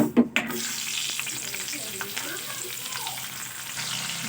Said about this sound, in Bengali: সিমগুলোকে আমি একই রকমভাবে ভেজে নেব